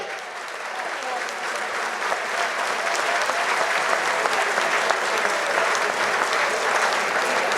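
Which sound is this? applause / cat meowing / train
applause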